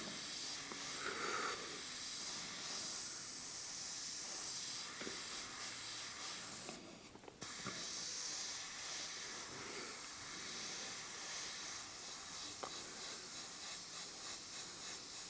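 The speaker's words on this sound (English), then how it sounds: "Backing off with the brush to get more of a broader spray pattern down along here." An airbrush sprays paint onto a monochrome portrait, giving a soft, steady hiss that runs continuously with only a brief pause midway, faint and close, with no talk.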